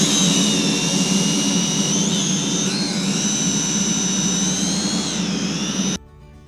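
A Holy Stone HS260 drone flies outdoors on a calm day, its propellers making a steady, high-pitched whine with shifting tones that holds for several seconds before cutting off abruptly.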